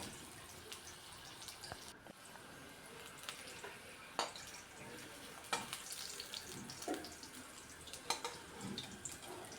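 Raw green banana pieces shallow-fry in a pan over a low gas flame and are turned now and then. A soft, steady sizzle runs throughout, with occasional light clinks from turning, fairly quiet and without speech.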